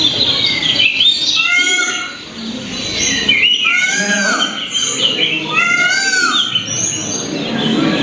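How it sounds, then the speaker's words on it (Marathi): A red-whiskered bulbul calls repeatedly, bright looping whistled phrases in short bursts with brief gaps, fairly close and clear over a quiet background. "तर याला इंग्लिश मधलं नाव बघा, रेड विस्कर्ड बुलबुल."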